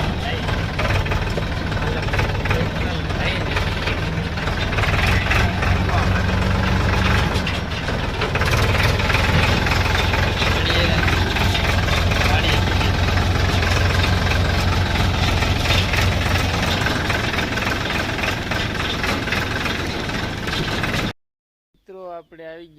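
A tractor engine runs loud and steady, a deep rumbling idle that continues for about twenty seconds before cutting off abruptly near the end, with faint voices following.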